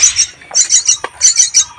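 A fallen baby bird squawks in a rapid series of shrill, scratchy bursts, close by and loud, with brief pauses between calls.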